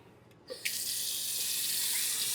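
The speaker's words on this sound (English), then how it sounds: "it's starting to drag, so I'm going to rinse it off again" Tap water runs to rinse an electric head shaver: a brief click and clatter, then a steady close hiss of water from the faucet that continues to the end.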